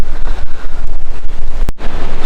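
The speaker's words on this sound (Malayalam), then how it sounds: "അപ്പം നല്ല കാറ്റുണ്ട് രാവിലെ നമ്മൾ ഇറങ്ങിയപ്പോഴത്തേക്ക്." Strong wind buffets the microphone on the mountain trek to Agasthyarkoodam, producing loud, gusting rumble with uneven surges and a brief sharp knock near the end.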